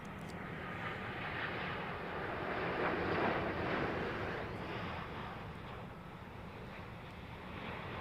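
Airliner landing at London Heathrow Airport, a steady broadband engine roar with rushing wind that swells slightly mid-way and stays loud and continuous throughout, with no voices.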